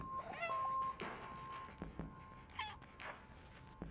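The cat in the PS5 game Stray meows a few times in separate short calls, close and fairly faint, with small thumps and game noises in between.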